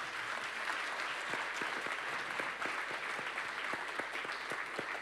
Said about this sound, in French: Merci encore Marie Perrin, vous repartez sous les applaudissements, merci à vous.